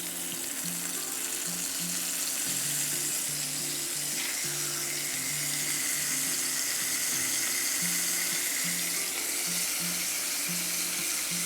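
Chicken thighs fry in a very hot pan with a steady, bright sizzle and crackle that holds throughout, while quiet background music plays underneath.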